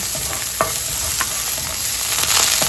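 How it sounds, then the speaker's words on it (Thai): Shiitake mushrooms sizzle loudly in a wok over high heat while a utensil scrapes and tosses them in quick, irregular strokes, with no talking. "เห็ดหอมนี่สำคัญนะคะ ต้องผัดไฟแรงๆนะคะ"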